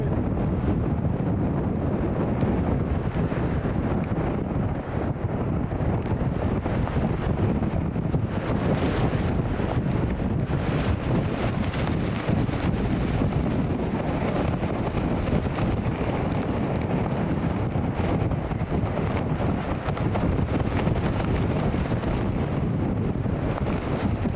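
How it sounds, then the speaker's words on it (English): Strong crosswind near Newcastle International Airport roars nonstop into the microphone, a loud, dense, unbroken buffeting with no voices. "wind is so strong that bit of hedge has just collapsed"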